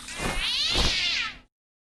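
A cat meows once in the video game Stray, a drawn-out, rising-then-falling call lasting over a second, clear and close, followed by silence.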